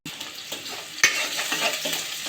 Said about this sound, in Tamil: வெங்காயம் பச்சை மிளகாயும் நல்லா வதக்கி விட்டுக்கலாம்